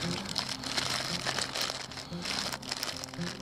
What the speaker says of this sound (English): it's just some plastic, it's a plastic bag